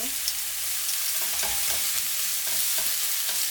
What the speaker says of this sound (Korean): 열무는 아까 데쳤으니까 버섯 먼저 볶고